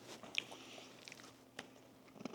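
Someone bites and chews broken pieces of crunchy homemade almond biscotti, a few quiet crisp snaps and crunches close up, with no talking.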